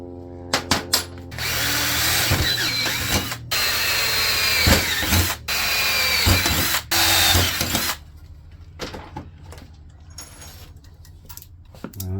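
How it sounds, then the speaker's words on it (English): Electric drill boring holes in homemade RC crawler control arms with a worn bit, loud whirring bursts starting and stopping, followed by quieter clicks and handling of parts. "So just gotta drill those holes real quick."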